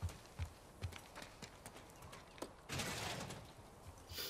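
Horse hooves clip-clop in The Last of Us Part II, a run of quiet, evenly spaced steps with a louder scuffle near the end and no talk.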